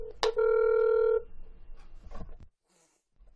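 Telephone keypad tones on a callback, a brief beep followed by a sustained dial tone, then faint room noise and a short quiet gap.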